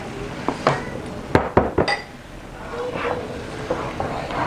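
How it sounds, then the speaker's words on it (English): Tomatoes tipped into a pot of sautéed onions for a Cameroonian potato hot pot, giving a few close clattering knocks and soft splattering thumps against the pot, then a quiet low simmer. "I'm going to go in with my tomatoes."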